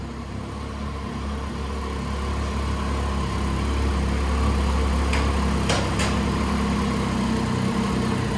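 A Triumph Street Triple R 675 motorcycle engine runs at a steady idle, a continuous low rumble close by with a few faint high clicks partway through and no talking.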